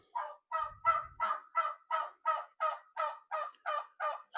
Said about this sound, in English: that's Tamika the turkey. She's all upset because I got the chickens put up in there.